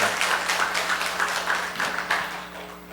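Congregation applauding together in a Korean church service, a steady rhythmic clapping from many hands heard at moderate distance, continuous and fairly even throughout with no voices over it.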